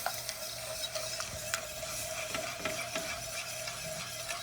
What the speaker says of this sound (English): And you stir.